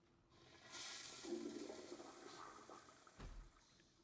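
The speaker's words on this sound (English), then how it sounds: "He's even flushing the toilet there." A toilet flushes in a video game, a rushing swirl of water that builds and runs for several seconds at low level, ending with a dull thud.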